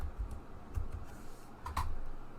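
Computer keyboard typing as data is entered into a PowerPoint table: a handful of soft, irregular key clicks, fairly close and quiet, with short pauses between keystrokes and no talk.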